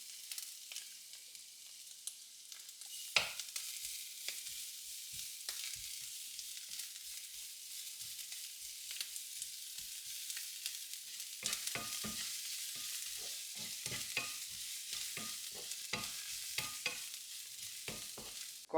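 Crushed garlic fries in coconut oil for a Kerala-style mussel fry, giving a soft, steady sizzle broken by scattered spatter pops and stirring scrapes. It is fairly quiet, with no voices.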